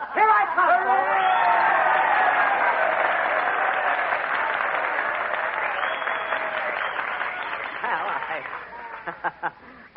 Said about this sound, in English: with a little encouragement and applause, we can get Jack Benny to come up here